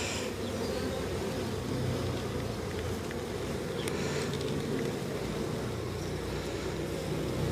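A packed honeybee hive gives off a dense, steady, low buzz from a mass of bees, loud and close throughout with no break.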